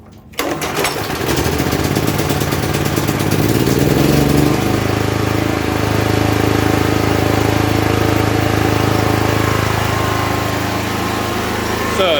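A portable generator engine runs steadily after a carburetor swap to a choke version, a loud continuous drone that starts abruptly and holds a constant throbbing pitch with a slight shift midway.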